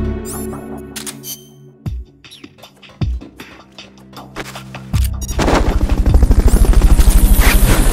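A helicopter in Metal Gear Solid: Peace Walker builds into a loud, steady rotor chop, preceded by sharp gunshot-like impacts and layered game effects, with no voices.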